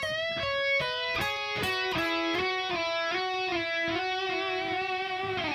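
An electric guitar plays sliding notes from a song's intro that shift up and down, each trailed by repeating delay echoes, with no voices.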